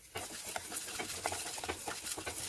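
Urad dal dry-roasting in a pan while being stirred gives a steady dry rattle and scrape, with soft repeated stirring strokes throughout, close and fairly quiet with no talk.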